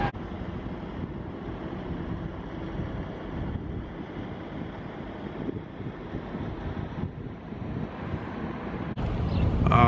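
A car on an interstate highway gives off a continuous low road and engine rumble mixed with wind noise. The sound is steady and grows a little louder toward the end, with no voices.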